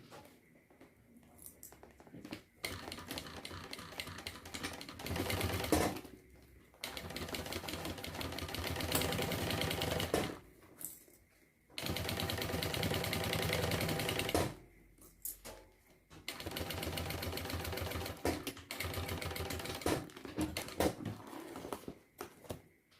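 A sewing machine stitches a zipper onto a beach bag in several long runs separated by brief pauses, its steady mechanical whir close and fairly loud with no talking.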